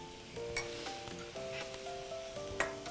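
Mushrooms stir-fry in a pan for a vegetarian tofu dish, a soft steady sizzle with light clinks of a utensil against the pan and a few sharper scrapes, fairly quiet and with nobody talking.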